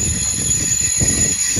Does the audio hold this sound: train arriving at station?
yes